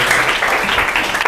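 Classroom applause from students in a lesson, a steady broadband clatter of many hands clapping at once, moderately loud and sustained throughout without pauses.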